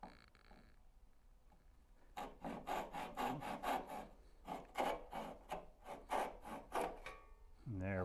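Rhythmic rasping strokes of a hand saw cutting wood for a Shaker Enfield cabinet face frame, about a dozen quick back-and-forth passes, close and fairly quiet, after a short pause at the start.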